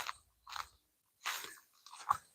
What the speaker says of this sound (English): Just chewing on branches.